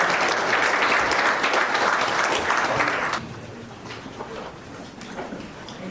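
A seated audience at a Korean public policy forum on the Changdong–Sangye new economic district claps to welcome a lawmaker, steady dense clapping for about three seconds, then dropping to a quieter, thinner patter of scattered claps.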